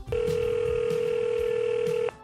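A telephone call connects with a single long, steady electronic ringback tone that holds for about two seconds and then cuts off, clear and close.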